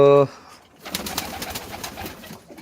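Pigeons in a loft coo in a close, rolling series of low calls after a brief opening tone, continuing steadily to the end.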